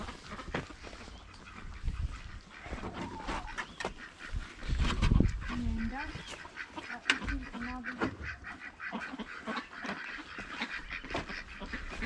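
Ducks quack repeatedly at a farm feeding time, a busy, fairly close flock with overlapping calls and some honk-like notes, over outdoor ambience with a little distant talk.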